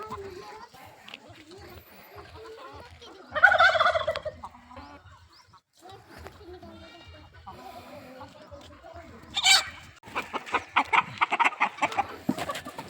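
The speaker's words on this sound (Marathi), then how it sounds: "पूर्ण प्युरिटीमध्ये गावरान पक्षी गणेश सरांनी पार्सल केले होते एकदम ॲक्टिव्ह पक्षी बघू शकता तुम्ही" Country chickens cluck and squawk in a couple of loud bursts, with fainter clucking and rustling from the flock in between.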